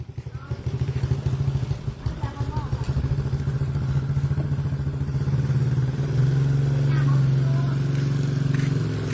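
Motorcycle ridden by a grandmother, its mid-pitched engine running steadily and close throughout, with rattling clatter and voices talking over it.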